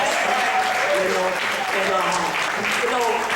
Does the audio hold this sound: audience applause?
yes